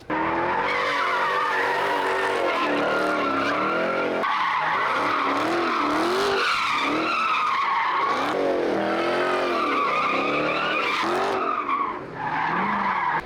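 Tires squealing and skidding at a car meet involving a Scat Pack and a Hellcat, loud and continuous with swelling engine revs and rubber screech that never lets up.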